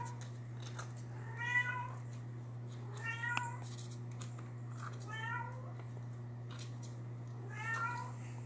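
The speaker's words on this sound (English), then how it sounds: "What's the matter, kitty? Are you calling your kittens?" A mother cat with kittens meows four times at spaced intervals, fairly clear, over a steady low electrical hum.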